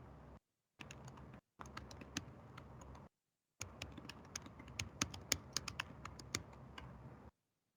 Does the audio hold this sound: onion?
no